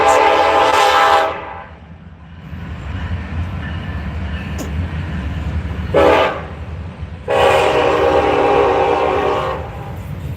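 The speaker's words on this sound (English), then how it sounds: "Damn trains. It's about 100 yards." A train passes about 100 yards away with a loud horn sounding in three long blasts separated by pauses, over a steady rumble of rolling cars, heard outdoors at a hide tanning site.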